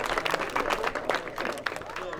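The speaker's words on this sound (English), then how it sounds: "round of applause for these guys" An outdoor crowd at a medieval fort claps for stage combat performers after a fight demonstration, a short burst of close, busy applause with a voice speaking over it.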